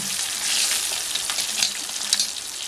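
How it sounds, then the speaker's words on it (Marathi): Small fish frying in a pan over a wood-fired stove, a steady loud hiss and crackle of hot oil with occasional sharper pops, continuous and close. "ते छोटेवाले मासे आपल्याला फ्राय करून घ्यायचे"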